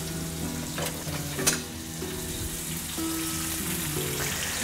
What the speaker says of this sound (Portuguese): E vai deixar fritar um bocado